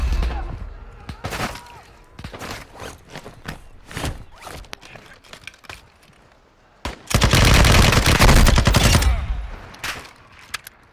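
Video game gunfire in a military shooter: scattered single shots and short bursts, then a loud sustained burst of automatic fire, with voices talking in between.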